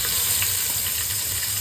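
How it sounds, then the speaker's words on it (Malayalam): Onions fry with whole spices in hot oil for mutton biryani, making a steady, bright hiss of sizzling that holds evenly and close. "ഇതിലേക്ക് നമുക്ക് ആവശ്യമുള്ള സവാള ഇട്ട് കൊടുക്കാം."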